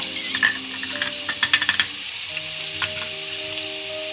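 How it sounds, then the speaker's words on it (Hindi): Potato and pea samosa filling sizzles steadily in a hot pan, with a run of sharp spoon clacks against the pan early on, then a softer continuous fry alone to the end. "मटर को 5 मिनट तक अच्छी तरह से भून लें"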